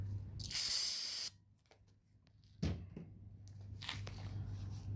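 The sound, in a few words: brake cleaner sprayed onto rusted rotors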